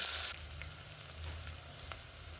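Chopped onions fry in hot oil, a faint, steady sizzle that stays low and continuous, with a brief louder burst at the very start and no voices.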